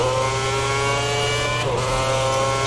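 An F1 race car engine in the game F1 2010 holds a loud, steady high-pitched whine throughout, with a brief dip in pitch as it shifts, then resumes at full revs.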